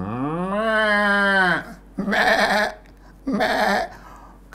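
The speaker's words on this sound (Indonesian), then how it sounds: "peternakannya ribut oleh binatang-binatang yang dipeliharanya" Livestock on a farm bleat and call loudly close by: one long drawn-out cry is followed by two shorter harsh bleats, with brief quiet gaps between them.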